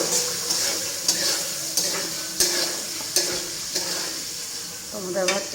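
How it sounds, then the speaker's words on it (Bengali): Spice paste with chicken, potato and raw onion sizzles steadily as it is sautéed in a pan, with a spoon scraping and stirring at roughly regular intervals, close and fairly loud. "এখন এই মশলাটা কষাবো"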